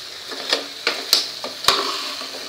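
Vegetables for a drumstick curry sauté on low heat in a pan, a soft continuous sizzle punctuated by five or six distinct scraping stirs and light utensil taps.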